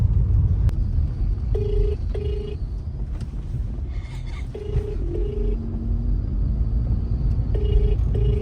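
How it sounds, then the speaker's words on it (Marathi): A mobile phone call rings out through a handset in a moving car: repeated paired ringback beeps with pauses between, over a steady low engine and road rumble. "फोन लावतो फोन लावतोय"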